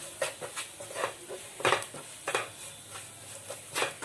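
Coriander and cumin powder being stirred into a pan of gram flour with a spoon, giving soft intermittent scrapes and clinks against the metal at close range, with no talking.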